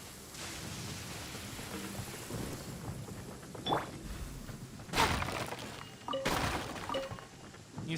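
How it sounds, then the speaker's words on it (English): Thunder rumbles and cracks through steady rain in Genshin Impact, with sharp booming strikes near the middle and end over a constant hiss of falling rain and no talking. "That thunder's so loud."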